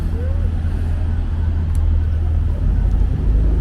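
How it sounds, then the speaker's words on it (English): Steady low rumble of downtown Seattle road traffic close by, engines droning continuously with no clear individual pass-bys, a faint voice mixed in. "the sounds of cars"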